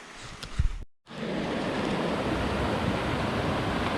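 Rushing stream water in rainy woods, a loud, continuous broadband roar of flowing water close by, starting after a brief cut and holding steady, preceded by a few faint handling thumps.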